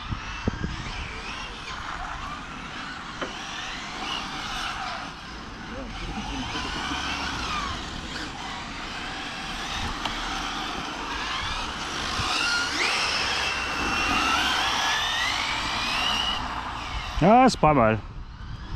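An ARRMA 1/7 scale RC BMW 330D with a 1000kv electric motor on an 8S battery drives outdoors, its motor whining and rising and falling continuously at moderate distance, with brief talking over it.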